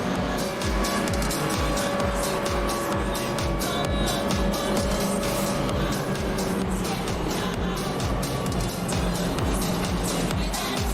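Race cars at New Smyrna Speedway roar continuously as they warm up their tires before a 13-lap shootout at the Daytona Battle at the Beach, a loud, dense engine drone with steady pulsing.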